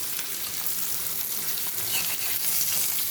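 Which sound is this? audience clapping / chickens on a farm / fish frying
fish frying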